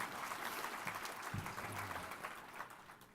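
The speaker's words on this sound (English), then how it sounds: "So a round of applause for the NCRC board." An audience at a 2018 economic justice conference claps for the NCRC board, a dense, steady round of applause that fades slightly toward the end, heard with no talking over it.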